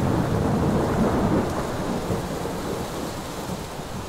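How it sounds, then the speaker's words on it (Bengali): Thunder from a nearby lightning strike rolls as a heavy, sustained low rumble over steady rain, loud and close, slowly easing off, with no voices. "বেশ কয়েক গজ দূরে বাজ পড়ার তীব্র শব্দে আমাদের সকলের কানেই তালা লেগে যাওয়ার উপক্রম হলো"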